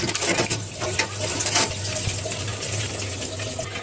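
Fish washed with salt under a running tap, a steady close gush and splash of water with small knocks and sloshes, continuous and fairly loud, with no speech.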